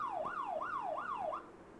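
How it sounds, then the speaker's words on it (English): An electronic siren wails in quick repeating sweeps from an ATMT Pro phone alarm, four rising-falling cycles, loud and close, then cuts off. "See, siren will stop."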